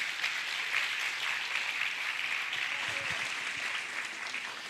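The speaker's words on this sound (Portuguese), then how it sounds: "Quem crê nesta manhã, levante a mão, aplauda ao Senhor." Congregation applauding during a church service, a steady wash of clapping that fills the whole stretch at moderate distance, without clear speech over it.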